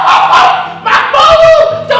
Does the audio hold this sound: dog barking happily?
yes